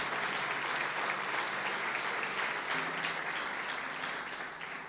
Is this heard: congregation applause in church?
yes